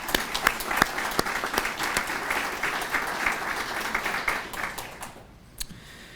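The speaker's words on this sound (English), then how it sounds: "And I think all of our partners deserve a big round of applause." An audience at a town's annual state-of-the-town address claps for its regional partners, lively and steady with sharp individual claps standing out, then thins out and fades near the end.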